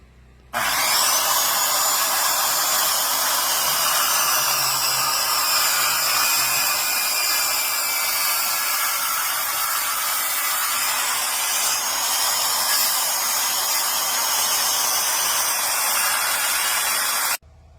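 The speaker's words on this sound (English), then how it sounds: "make a couple cuts, and then use the power saw to finish it off" Power saw cutting logs while building a log home, a loud continuous whining roar that starts abruptly, holds steady for about seventeen seconds, then cuts off.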